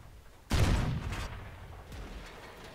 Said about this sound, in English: Artillery hits us again, taking out our driver, making us incredibly slow indeed.